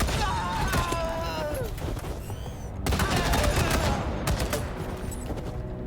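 Gunfire in Wasteland 3 video game combat during an ambush at the Dorsey site: dense, loud bursts of fusillade and machine-gun fire with booms, continuous throughout under some game sound effects.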